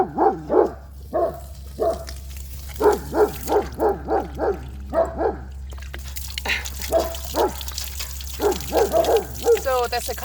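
Several dogs bark repeatedly at mid distance in uneven bursts, with a low steady hum and some splashing water underneath.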